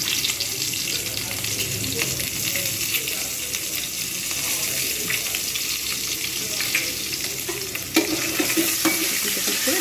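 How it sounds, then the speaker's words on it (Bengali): Eggs fry in hot oil with turmeric for an egg kalia, a steady close sizzle with occasional spatula scrapes and stirring, and a sharper burst of spatter near the end. "ভেজে নেবো ভালোভাবে হলুদ দিয়ে দেবো"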